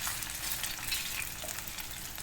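Okra pieces fry in oil over a low flame with a continuous fine, hissing sizzle, quiet and close, flecked with tiny pops and no voices.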